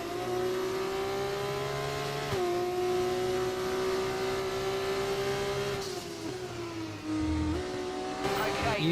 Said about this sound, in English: here come the cars with the DRS from behind